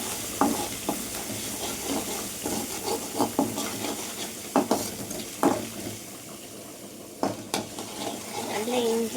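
Ginger garlic paste fries in a pan while a spoon stirs it, giving repeated scraping knocks over a dense, continuous sizzle, close and moderately loud, with faint background voices.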